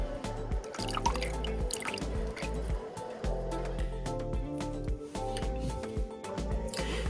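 Homemade buttermilk drips and trickles steadily through a strainer while fresh butter made from heavy whipping cream is strained, close up, with wet patters and soft splashes continuing throughout.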